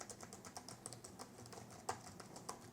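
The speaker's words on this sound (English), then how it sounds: "Some people love listening to keyboards click" Keys clicking in a steady run of typing on a computer keyboard, quiet and close, with a few slightly louder keystrokes standing out.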